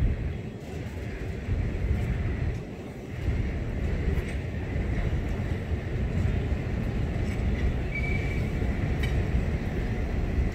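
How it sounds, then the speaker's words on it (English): Santa Cruz, Big Trees and Pacific passenger train with two engines and ten cars passing through Santa Cruz, a steady loud rolling rumble with clattering wheels, sustained and fairly near throughout. "there is a train that runs through Santa Cruz. It doesn't carry freight."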